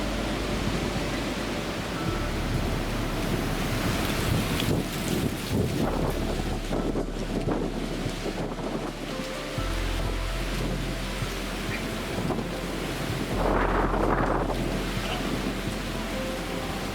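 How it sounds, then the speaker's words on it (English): Strong wind blows outdoors on a day when most leaves are already gone, roaring and buffeting the microphone in loud, continuous gusts with surges and brief dips, no voices over it. "It has been windy the entire day."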